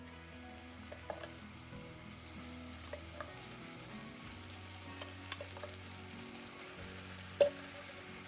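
Cashew and tomato paste fries gently in oil over low heat, a soft continuous sizzle broken by faint scrapes and taps of stirring and one sharper clink, close and quiet with no voices.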